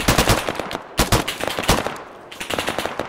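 Automatic machine gun fire in the Arma 3 military shooter, several rapid bursts of loud, close shots with short gaps between them, running throughout.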